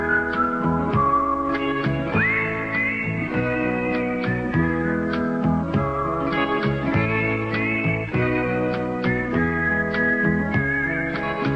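Whistling by a musical novelty act, a pair of brothers, carries a bright melodic tune with sliding pitches and steady rhythm, loud and close, with no talking.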